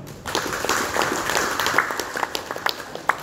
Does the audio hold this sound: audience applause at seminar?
yes